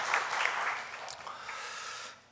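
Congregation applauding during a Sunday church service after a junior minister is introduced, a broad wash of clapping that stays steady and moderately loud, then fades out near the end.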